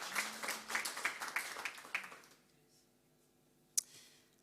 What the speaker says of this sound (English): another round of applause for our Postgrad Dean's Achievement Award winners